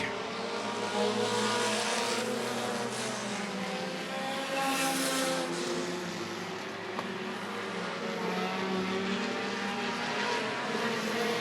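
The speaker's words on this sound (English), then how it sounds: "The final heat for the Dash Cars is going to go to Ryan Nelson in car number 20" Midwest Dash Series race cars at Rockford Speedway roar continuously in a loud, sustained engine drone, with a pass swelling brighter around the middle and steady engine harmonics throughout, no talk over it.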